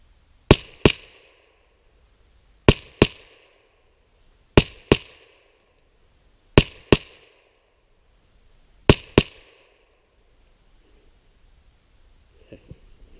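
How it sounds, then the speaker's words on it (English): A Mossberg 702 rifle fired in five evenly spaced double taps, each pair of sharp, loud cracks separated by a short pause, followed by faint handling noise. "I'm gonna do double taps with this magazine"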